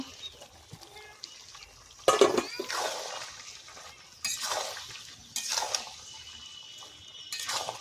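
Duck curry with potato and pumpkin stalks being stir-fried in a pot on low heat, with intermittent bursts of scraping, clinking spatula strokes against the metal under a steady sizzle, close and moderately loud.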